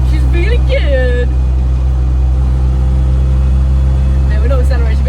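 An overlanding vehicle's engine runs at a steady, loud, low hum from close inside the cabin, while people talk over the constant drone.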